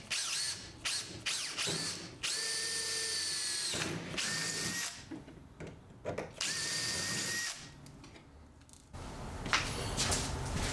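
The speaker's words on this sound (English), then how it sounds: "I'm going to drill a hole in that" A power drill bores a hole through a wooden rake handle, its motor whining loudly in several long bursts separated by brief pauses and short trigger blips.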